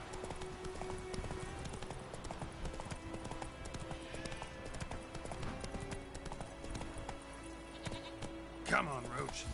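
The horse Roach galloping in The Witcher 3, rapid rhythmic hoofbeats clip-clopping steadily beneath game music, with a short voice near the end.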